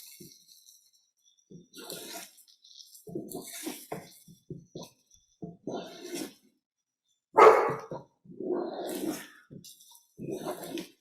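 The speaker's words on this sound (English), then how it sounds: "My young dog's barking." A young dog barks repeatedly in a home kitchen, bursts of yips and barks scattered across the stretch, one louder near bark standing out, with quieter gaps between.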